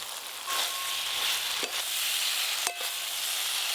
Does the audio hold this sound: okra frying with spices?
yes